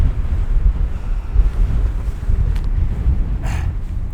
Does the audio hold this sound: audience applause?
no